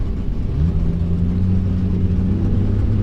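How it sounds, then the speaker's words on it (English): A 1984 Ford Mustang drag car with a 140 cubic inch four-cylinder runs hard at the strip, giving a loud, close, continuous engine drone whose pitch climbs slightly as it pulls. "And that little 4-cylinder runs pretty hard"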